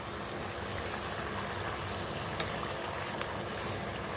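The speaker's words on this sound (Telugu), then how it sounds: "ఆయిల్ బాయిల్ అవుతుంది మంచిగా మసలాలి ఆయిల్, అందులో ఇట్లా పూరీలా చేయాలి. ఇలా అన్ని పూరీలు ఫ్రై చేసుకోవాలి." Pooris frying in boiling oil in a home kitchen, a steady close hiss and crackle of bubbling oil with a few faint pops, no voices.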